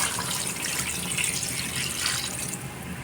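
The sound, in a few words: pouring water into chicken curry pot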